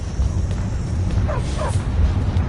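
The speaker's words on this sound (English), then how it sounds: "Stupid dog." A dog in the fantasy role-playing game Skyrim gives a few short barks and yips over a steady, low ambient rumble, moderately close with no talking.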